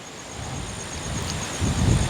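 Stormy wind roars steadily outdoors amid a gathering storm, a broad rushing noise with a low rumble building louder toward the end, no voices.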